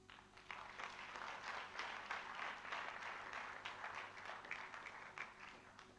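An audience applauds together at a French ceremony, a dense steady wash of clapping hands that holds at a moderate level for the whole stretch with no voices over it.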